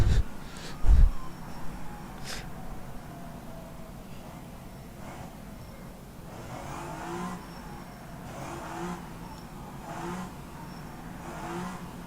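Race car engines whirring and revving in a sim racing endurance event at Yas Marina, a continuous mid-level drone with passing swells of acceleration and no talk over it.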